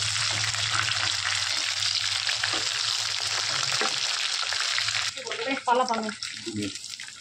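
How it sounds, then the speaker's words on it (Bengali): Chicken pieces for chilli chicken frying in hot oil, giving a steady loud sizzle and crackle for about five seconds, then louder clatter and bubbling bursts near the end. "তেলে ছেড়ে নিচ্ছি, এবার সবগুলো আমরা ভেজে নিচ্ছি।"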